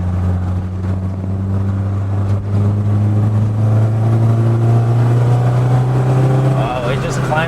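A Peugeot 205 GTI engine labours hard climbing a steep Thai mountain road, a loud sustained low drone close by that holds steady and then shifts pitch near the end, with speech over it.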